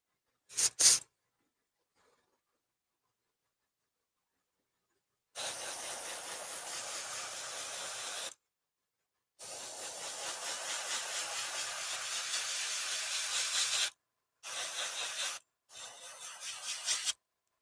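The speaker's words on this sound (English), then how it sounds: "That is not spraying correctly." A spray paint can sprays silver paint in a harsh hiss, first a brief burst, then several longer bursts of varying length separated by silent gaps, close and loud.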